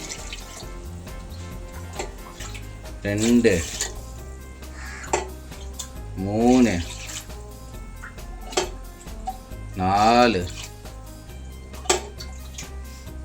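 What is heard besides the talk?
water being poured into a pot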